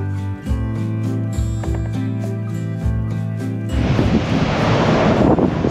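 Ocean surf breaking along a rocky California coastline with sand-rock cliffs, a broad loud wash of water rising after a few seconds of steady tonal background, with wind buffeting the microphone.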